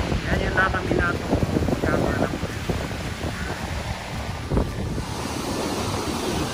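Sea waves wash along the coast near Aqua World Oarai in Ibaraki, Japan, a continuous surging roar mixed with gusty wind buffeting the microphone, with people talking over it.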